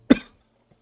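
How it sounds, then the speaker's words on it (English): A single short, close cough bursts out sharply and fades within a fraction of a second, followed by near silence. "Well, that's my first cough."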